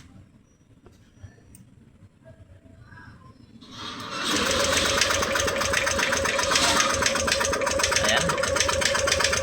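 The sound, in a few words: Yamaha Aerox 155 motorcycle engine starting and idling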